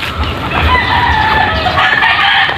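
A Rhode Island hen clucks close by in a native egg-laying setup, a short busy stretch of overlapping clucks and chatter from several fowl over a steady noisy background.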